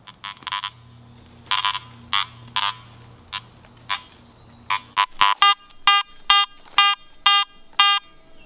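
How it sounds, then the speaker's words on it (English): Metal detectors switched on in a 1700s cellar hole in New Hampshire give a string of bright electronic beeps and chirps, irregular at first, then settling into a steady, evenly spaced series of loud tones with no talk. "I'm going to turn the detectors on. Swing."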